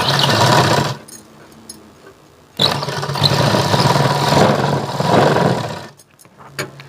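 A sewing machine stitches a blouse in short bursts, whirring loudly for about a second, pausing, then running steadily for several more seconds before stopping, with faint clicks in the gaps.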